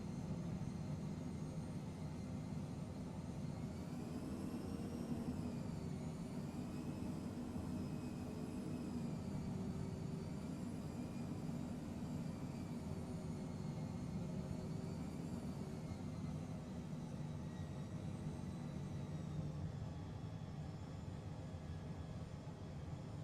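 Airplane landing in Microsoft Flight Simulator, a steady droning engine roar with slowly shifting whining tones throughout, faint and continuous, with no speech.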